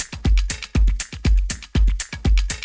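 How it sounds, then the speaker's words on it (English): Conga loop from a sample pack for Afro house: a steady, looping pattern of punchy hand-drum hits with deep low thumps and bright slaps, about two strokes per beat, loud and close with nothing else playing. "A conga loop."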